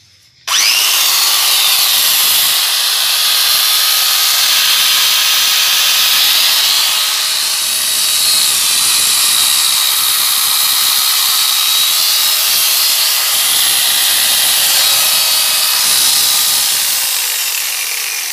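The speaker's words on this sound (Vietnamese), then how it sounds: "cưa xích Hitachi 770W" A Hitachi 770W electric chainsaw runs loud and steady right up close. It starts abruptly and holds a continuous high motor whine with no one speaking.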